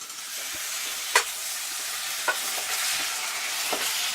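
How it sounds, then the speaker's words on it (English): Tomatoes sizzle steadily in a frying pan as a spoon stirs them, with a few distinct scrapes and taps against the pan over a continuous close hiss. "Your tomatoes, give it a stir."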